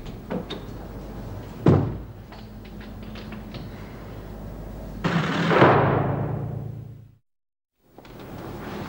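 A door in an interior scene swings shut with a sharp bang, then a longer rush of movement and rattling follows before a brief silence; no talking over it.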